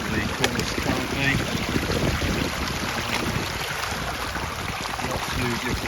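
Lake District river rushing past stepping stones, a steady close wash of flowing water with some wind buffeting on the microphone and brief voices nearby.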